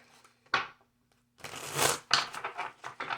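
Tarot cards shuffled by hand: a short riffle, a pause, then a longer run of dense papery shuffling and flicking, close and fairly loud.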